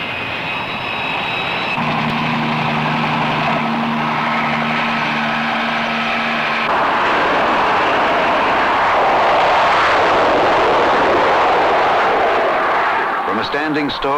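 A jet aircraft of about 20 tons launches from a U.S. Navy aircraft carrier in the China Sea, a loud building engine roar with whining tones rising into a broad rushing blast, with a narrator talking over it.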